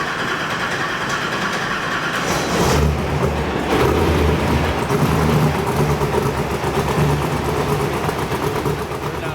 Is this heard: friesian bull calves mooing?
no